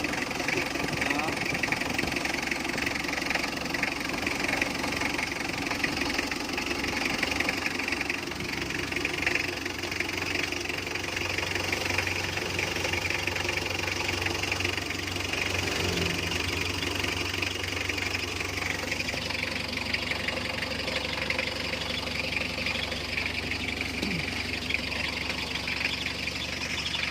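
The engine of a Mitsubishi L300 idles after a hard start, giving a steady rumble with a knocking, vibrating edge. It runs continuously for the whole stretch, fairly close but not loud, with some faint background noise.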